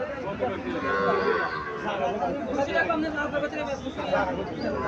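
Sahiwal heifer calves at a crowded cattle market in Cumilla moo over a continuous babble of people chattering nearby.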